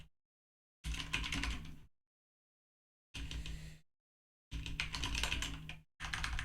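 Rapid clattering keystrokes on a mechanical keyboard come close and crisp in separate bursts, with full silence between them.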